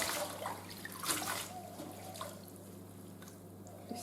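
Faint drips and light splashes of water at a kitchen sink after vegetables are rinsed, a few soft irregular plinks over a quiet low hum.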